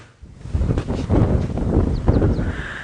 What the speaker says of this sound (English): it is so windy I'm going to have to shout so that you can hear me